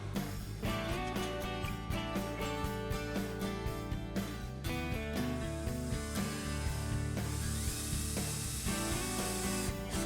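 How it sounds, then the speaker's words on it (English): Steady mechanical whirring of a drill press running continuously, with a layered buzzing drone and faint grinding as the bit works down through a wooden dowel. "Now I'm using my drill press to drill down through the dowel"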